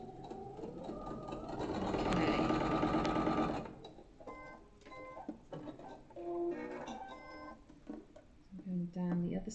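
A sewing machine runs in a fast, loud burst of stitching on a crossbody bag, then stops. A person talks afterward among quieter handling sounds and a few short clicks from the machine.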